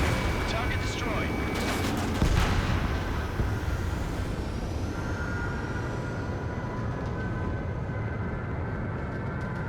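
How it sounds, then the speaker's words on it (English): Bombing explosions in Ace Combat 7 during a combat mission: a dense, continuous roar of blasts and jet noise, with sharper bursts early on, then a steady rumble. "They're bombing us!"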